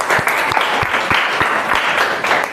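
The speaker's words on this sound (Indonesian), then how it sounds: "Tepuk tangan untuk kelompok 1." A classroom of students applauds a student discussion group, loud continuous clapping from many hands close by, with a few sharper individual claps standing out.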